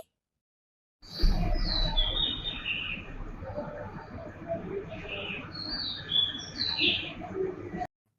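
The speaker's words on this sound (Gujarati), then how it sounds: "આ છે કસ્કલિયો. તેને અંગ્રેજીમાં કિંગફિશર કહે છે." A kingfisher calls repeatedly with sharp, high chirps and short trills over a faint background, moderately close and clear, lasting several seconds.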